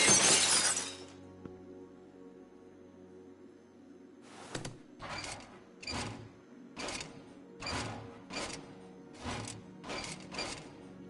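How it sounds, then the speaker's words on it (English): Glass shatters loudly and sharply at the start in The Walking Dead Telltale video game. After a quiet pause, a rhythmic series of softer crunching, knocking hits follows, with no speech. "Then I heard the glass breaking."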